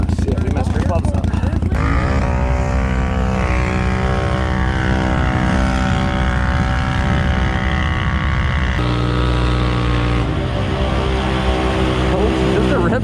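Engine of a 2018 Polaris Scrambler 1000xp ATV revving hard in deep terrain, a loud continuous roar with rising and falling pitch, close by, with people talking over it.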